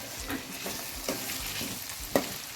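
Small sabudana khichdi is stirred in oil in a pan with repeated scraping strokes and a low steady sizzle, close and moderately loud, with no voices.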